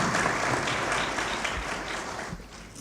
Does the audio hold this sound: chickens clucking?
no